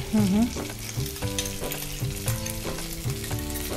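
Finely chopped capsicum and grated carrot frying in about two tablespoons of oil for a Maggi dosa filling, a close continuous sizzle with periodic stirring scrapes in the pan.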